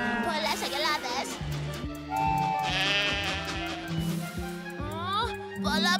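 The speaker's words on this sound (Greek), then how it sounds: "Πολλά πρόβατα." Several sheep bleat in quick succession over a busy backdrop of music and children's voices, the bleats wavering and close.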